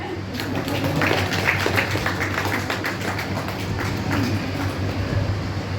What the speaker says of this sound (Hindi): अपने नाम पे ताली बजा दो।